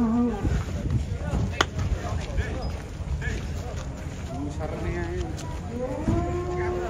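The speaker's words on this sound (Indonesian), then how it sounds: "Sapi raksasa pasar jelok pagi hari ini." Giant cattle at the Boyolali livestock market in the morning low repeatedly, with several close moos rising over a busy crowd of people talking and general market noise.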